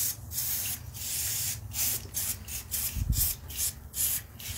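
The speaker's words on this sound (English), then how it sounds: "Definitely spray in the right area." Spray paint hissing from an aerosol can onto a tumbler being prepared for hydro dipping, a close series of short, uneven bursts of soft spraying with breathy texture and no voices.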